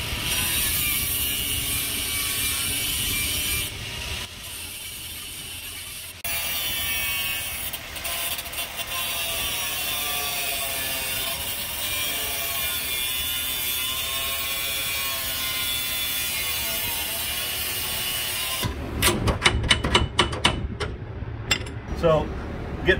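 An abrasive cutter slices through the welds on a car's rear lower control arm mounts, making a loud, continuous high-pitched grinding whine whose pitch wavers. Near the end it breaks into choppy, rattling bursts.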